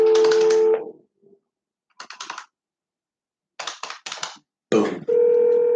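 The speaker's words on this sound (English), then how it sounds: "Just keep dialing." A telephone is being dialed in an office: short bursts of keypad tones and button clicks come in separate clusters with pauses between them. They sound close and clear.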